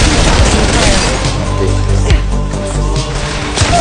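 Weapon fire in the mobile battle royale game Apex Legends Mobile: loud, sustained booming shots and crashes, with one sharp impact standing out midway and no clear talk over it.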